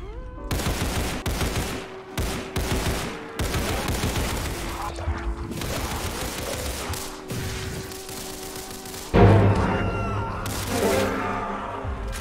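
Rapid automatic M4 rifle fire in the Roblox game Criminality during Infection mode, loud sustained bursts with brief pauses, followed by a louder shift of sharp impacts and clatter near the end.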